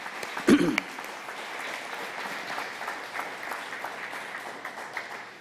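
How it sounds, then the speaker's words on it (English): Audience applause at a community conversation event on homelessness, a steady wash of clapping from a crowd that holds evenly for several seconds after a brief louder burst at the start. "How about a round of applause for just that number alone?"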